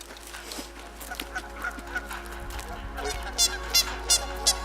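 Geese honk outdoors near an icy trout-fishing spot in cold weather, a cluster of loud, repeated honks building toward the end over a steady wind-like background.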